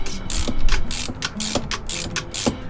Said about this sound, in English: when you tighten these, you should absolutely use a wrench